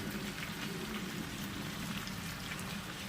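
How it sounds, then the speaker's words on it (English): Ground beef sizzles steadily in a frying pan, a dense continuous crackle and hiss without pause, moderately loud and close. "put the ground beef into the frying pan here"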